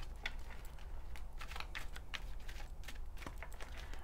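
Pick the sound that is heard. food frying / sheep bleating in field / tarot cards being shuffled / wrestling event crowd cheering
tarot cards being shuffled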